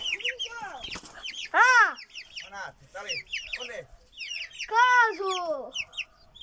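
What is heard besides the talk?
hens clucking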